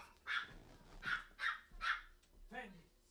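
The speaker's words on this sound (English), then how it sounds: "you guys hear my dog in the background?" Pet dog barking indoors, about four or five sharp barks spaced roughly evenly, moderately loud and fairly near, ending with a short voiced sound.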